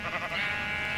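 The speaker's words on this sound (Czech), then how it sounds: "pink sheep" A pink sheep in the Minecraft video game lets out a single loud, close bleat that fills the short moment with no other sound.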